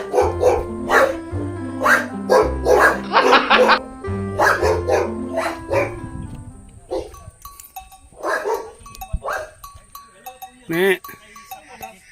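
Dogs bark repeatedly at close range around pens on a farm, a burst of loud overlapping barks followed by sparser yips, with people talking in between.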